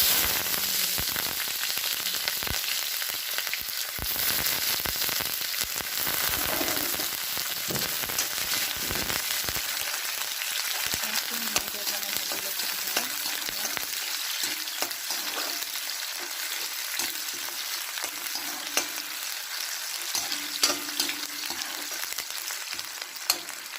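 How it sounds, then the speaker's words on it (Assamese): Chopped onions sizzle and crackle steadily in hot oil for a long stretch, with occasional stirring scrapes and no talking. "তেল দি লৈছোঁ আৰু তেলখিনি গৰম হ'ল। এতিয়া মই পিঁয়াজ"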